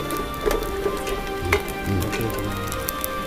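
Grated coconut roasting in a pan toward golden brown for Pallipalayam chicken, a soft continuous crackle and patter like light rain, steady and close with small scattered pops throughout, no voices.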